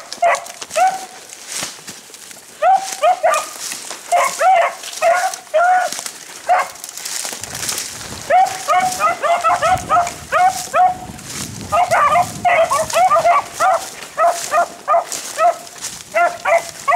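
A pack of beagles bays and yips while running a rabbit through brushy cover, the repeated hound cries coming in rapid bursts, sometimes overlapping, at moderate distance with brief lulls between runs.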